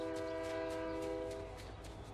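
A train in the Fortnite video game sounds a sustained multi-tone horn, loud and steady for over a second before easing slightly, over faint rumbling.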